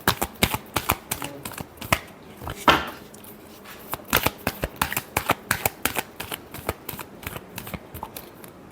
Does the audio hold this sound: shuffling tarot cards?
yes